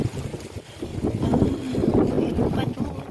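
Wind gusts buffet the microphone in an island garden, a steady low rumble that swells and eases, with soft voices faintly mixed in.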